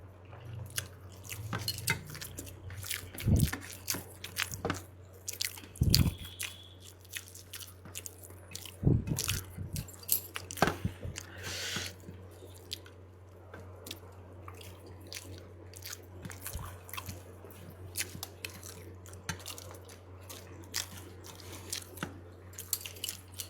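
Close, wet chewing and soft bites of shrimp bharta with onion, garlic and hot rice, in irregular crunchy bursts over a steady low hum, with no talk.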